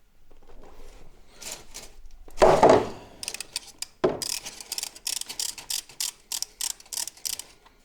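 Close, quiet ratcheting clicks and scraping metal sounds as the oil drain bolt on a Honda CBR 600R motorcycle is unscrewed, with a brief louder clatter and then a rapid rhythmic series of ratchet ticks.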